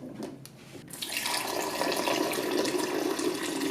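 Cold tap water pours steadily into the reservoir of a Hamilton Beach FlexBrew two-way coffee maker, a soft clatter that turns into a continuous filling rush.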